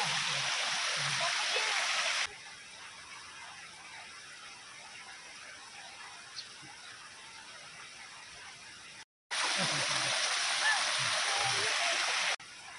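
A waterfall at Tawai rainforest camp in Telupid roars with broad, steady rushing noise, loud in the opening seconds and again near the end, quieter and more distant in between.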